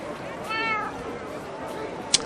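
A cat in a Minecraft TolkienCraft server gives one short, tonal meow near the start, heard alongside people talking, followed by a brief sharp click near the end.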